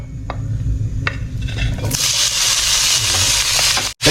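Blanched mixed vegetables are tipped into a hot pan and burst into a loud, steady stir-fry sizzle, with a few clanks of utensils before it starts.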